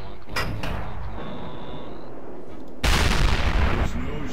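A tank gun fires in a tank battle video game: a low rumbling backdrop with a few faint clanks, then one sudden loud, booming shot whose heavy roar carries on to the end.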